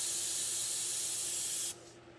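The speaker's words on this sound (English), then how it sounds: "Get back pretty far and spray it straight out without moving it" Grex XGi airbrush fitted with a fan cap spraying, a steady, loud, airy hiss held for nearly two seconds before cutting off to a faint background hiss.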